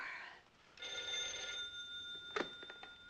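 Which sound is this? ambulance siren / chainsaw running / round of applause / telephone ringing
telephone ringing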